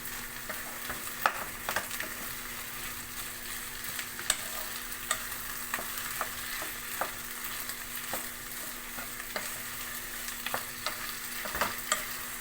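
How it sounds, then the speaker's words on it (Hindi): Boiled, mashed potatoes fry in about half a cup of hot oil with salt, chilli and cumin, a continuous close sizzle broken by frequent scraping taps of a spoon stirring the pan. "इस तरह और आलूओं को भूनते जाएं"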